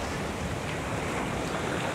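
Ocean waves rush steadily onto a shore at a coastal landscape photography spot, a continuous loud wash of surf mixed with wind buffeting the microphone.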